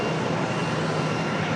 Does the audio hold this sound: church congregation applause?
no